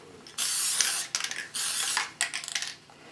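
Basting spray sprayed onto the cloth of an Ikea portable ironing board: two long, close hissing bursts followed by a few shorter, sputtering sprays, loud and with no voices.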